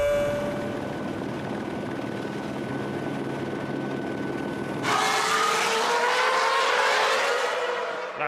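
A Toyota Formula 1 car's engine screams at high revs at Monza during the 2006 Italian Grand Prix, a sustained whining roar that suddenly jumps brighter and louder halfway through as the car passes close by.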